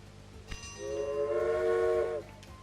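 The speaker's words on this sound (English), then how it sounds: "Let's get some trains running on these lines." Locomotive horn in the Railway Empire video game sounds a single sustained chord blast of about a second and a half, with low rumble and a soft click before it, fairly faint with no talking.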